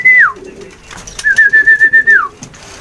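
A pet pigeon gives two clear, close cooing calls, a short one and then a longer drawn-out coo that ends in a falling note, with faint rustling of movement between them.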